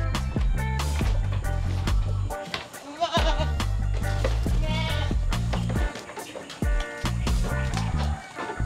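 Goats bleat loudly and repeatedly on a free-range farm, several overlapping animals calling close by in insistent, wavering cries with brief pauses between bursts.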